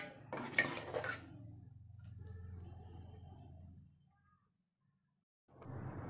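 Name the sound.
stirring rice and jaggery in a pot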